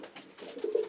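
A single pigeon in a loft lets out a short rising coo, close and clear, swelling toward the end of a quiet moment.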